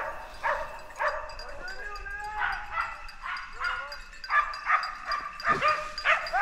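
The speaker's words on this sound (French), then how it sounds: "Les chiens se mettent aux ferme devant moi et lèvent de nouveau un gros sanglier." A pack of hunting dogs bay at a large wild boar they have brought to a stand during a boar hunt, with repeated excited yelps and barks rising and falling close by and continuing through the clip.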